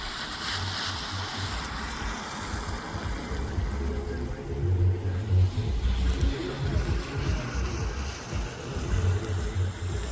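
A BMW car pulls up outside a birthday gathering, its low engine rumble rising and swelling midway amid steady outdoor wind-like noise.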